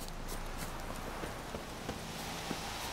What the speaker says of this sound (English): Call the damn horse.